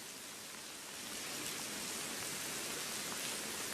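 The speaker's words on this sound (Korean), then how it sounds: "제가 나와 있는 이곳 갑천변에는 방금 전부터 빗줄기가 굵어지고 있습니다" Heavy rain pours down along the Gapcheon riverbank in Daejeon during a heavy-rain warning, a dense, unbroken hiss that swells a little louder after the first second, with no voices heard.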